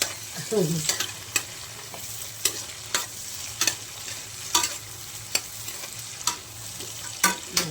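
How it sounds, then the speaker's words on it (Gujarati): Capsicum and green chilies being stir-fried in a pan, a steady sizzle with sharp, regular clinks of a spatula against the metal roughly every half second, close and alone. "આ બધું 2 મિનિટ માટે શેકાશે."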